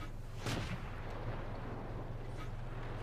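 A tank gun fires once in World of Tanks, a tier 5 AT 2 tank destroyer taking the shot: one loud, deep boom near the start rolls into a low rumble, with steady engine drone running underneath.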